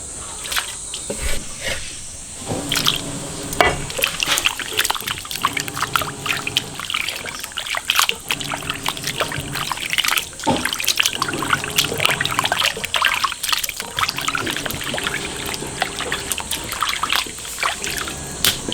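Octopus tentacles are washed under a running tap, with steady trickling, splashing water and intermittent handling noises up close for a long continuous stretch.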